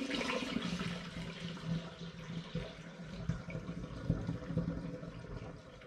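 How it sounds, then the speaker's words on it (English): Coconut sparkling wine pours through a funnel into a glass demijohn, a steady rushing, gurgling stream of liquid running throughout, fairly close and continuous with small splashy surges. "The force of all this going through the funnel means that it will mix just fine with the Finings."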